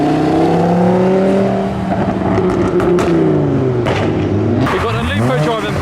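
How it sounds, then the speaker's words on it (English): A Volkswagen Lupo drives past as modified cars leave a car meet at Tesco, its engine note rising and then sweeping down as it passes close by, over a steady background of other traffic. "We've got a Lupo driving past."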